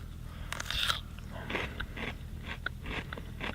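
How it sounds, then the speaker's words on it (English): Raw sunchoke is bitten and chewed close up, a sharp crisp crunch followed by a series of smaller crunching chews at an uneven rhythm, quiet and with no talking. "it does kind of have that crunch, which you can probably hear, of a carrot"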